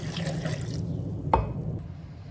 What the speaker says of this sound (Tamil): ஒரு அரை டம்ளர் அளவுக்கு தண்ணி ஊற்றி மறுபடியும் அரைச்சிட்டு வந்துடுவோம்